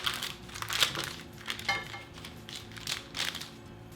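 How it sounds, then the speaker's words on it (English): Parchment paper peeled away from a chilled slab of cookies and cream fudge, giving soft, crinkly rustles in several short bursts, close and fairly quiet, with no voices. "Peel away that parchment paper."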